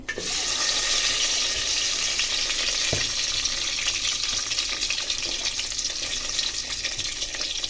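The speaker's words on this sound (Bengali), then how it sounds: "এখানে আমি তেলটা বসাই দিছি। তো এই তো আমি পেঁয়াজ কেটে রাখছি, তো এগুলো দিয়ে দিই।" Chopped onions frying in oil for beef curry give a constant loud sizzling hiss with a brief crackle partway through, close and steady with no talk.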